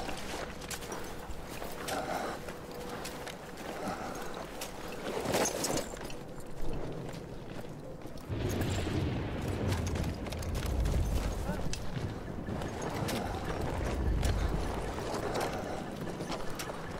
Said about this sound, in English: Let's see if I can take the horse this time.